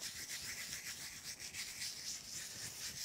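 Fingers rub diamond sprinkles into exposed adhesive on a card, giving a soft, continuous close-up scratchy rubbing with a gentle back-and-forth rhythm.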